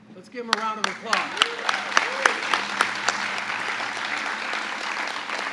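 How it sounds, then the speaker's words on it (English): Applause at a congressional law enforcement award ceremony: a voice speaks as clapping swells, then many hands keep up a steady, even round filling the hall. "Let's give him a round of applause."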